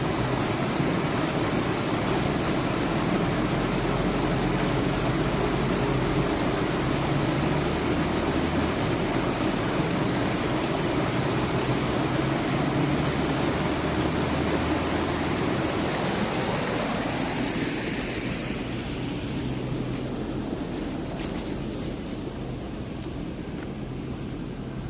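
A waterfall at Mammoth Spring State Park makes a steady, broad rushing roar that stays loud and even, then thins slightly toward the end, with no voices.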